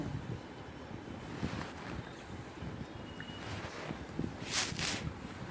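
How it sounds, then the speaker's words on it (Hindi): Gujiya sweets fry in oil with a soft, continuous bubbling hiss, fairly quiet and steady, with a couple of brighter sputters near the end. "इसी तरह से मैं गुजिया को फ्राई कर रही हूँ"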